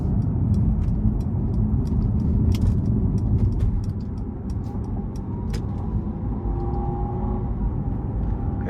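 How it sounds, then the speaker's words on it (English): A 2019 Maybach S650 with a 6.0-litre twin-turbo V12 cruising in sport mode, heard from inside as a steady, heavy low rumble with road noise and faint clicks, no talking. "let's see how it drives with a twin turbo V12"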